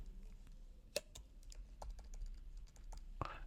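Computer keyboard typing while coding a React Native app, faint and close, with scattered quick keystrokes and a couple of sharper clicks in an irregular rhythm.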